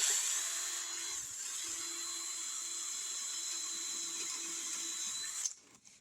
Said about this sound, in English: I'm going to take and drill that. And we'll drill it all the way around.